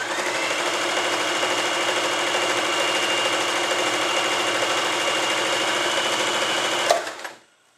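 An Elna 120 sewing machine runs steadily as it stitches a G decorative pattern, a fast, even mechanical whir that stops abruptly near the end with a small clunk.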